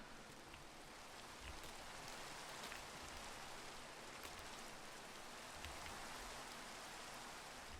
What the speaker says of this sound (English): We're simply gonna have to just wait until the rain stops.